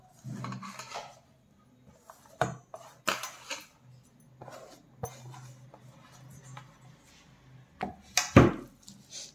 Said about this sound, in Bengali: দেখো এগুলো সব মেখে নেবো এক এক করে